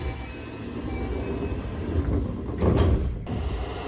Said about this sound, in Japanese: 列車は定刻で東府中駅を発車。